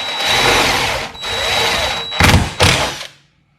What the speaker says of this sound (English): make sure you keep your drill straight too when you do these.